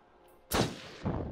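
A single loud gunshot rings out during shooting practice in Until Dawn, a sharp broadband crack followed by a short tail and a second softer report about half a second later, with no talk.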